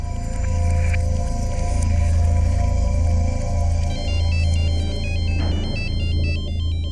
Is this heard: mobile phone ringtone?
yes